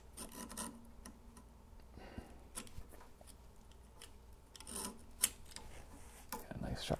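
A sharp knife cuts through harp pedal felt with scattered close scraping and rasping strokes, soft and uneven, with someone talking between the cuts.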